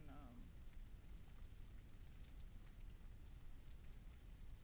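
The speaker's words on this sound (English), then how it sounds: "Oh, it's raining outside." Steady rain falls outside in a dense, even hiss of drops that continues without a break, heard at a moderate distance.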